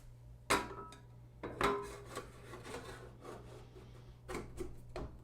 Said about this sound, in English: Now let's install the top panel. That's going to slide down like this.